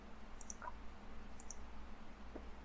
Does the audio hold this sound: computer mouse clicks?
yes